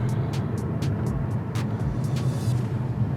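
Audi Q5 S-Line 2016 crossover accelerating hard past 100, a steady loud engine and road drone with a low rumble throughout, heard from inside the cabin with repeated faint higher whooshes over the top.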